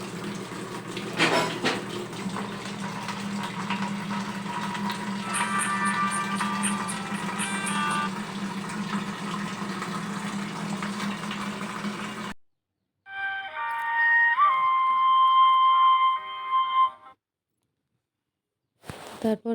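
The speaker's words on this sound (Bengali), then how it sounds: "জলটা ভরে নেব।" Tap water runs steadily into a container at a kitchen sink for about twelve seconds, followed by a brief electronic tune and a few clinks.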